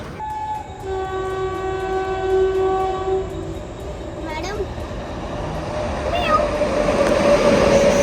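A local train pulls into Ghatkopar station with a loud, steady rumble of rolling carriages, and long sustained horn blasts sound over the noise in the first few seconds.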